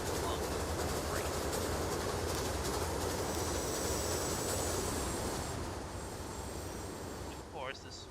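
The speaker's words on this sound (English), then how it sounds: "Of course, this freight train will have to wait until the tracks are clear for this commuter service." Freight train rolling along the tracks in the railway simulation game Transport Fever 2, a continuous loud rumble of wheels and wagons that fades slightly toward the end, with a brief squeal near the close.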